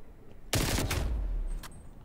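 Groza assault rifle firing in Call of Duty: Black Ops Cold War, as one loud, rapid burst of close automatic gunfire lasting about a second, followed by a brief faint echo.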